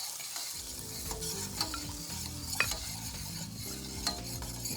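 A spoon working through a roux in a hot pan, with soft sizzling and scraping and a few louder clinks against the metal, close and steady without talk.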